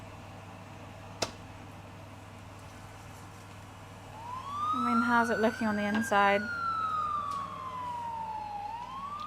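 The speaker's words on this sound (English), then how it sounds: "I'm so used to hearing sirens." Wailing emergency siren heard from outside a home kitchen, rising and falling in a long sweep with a brief yelping burst in the middle, moderately loud over a steady background hum, with someone speaking briefly over it.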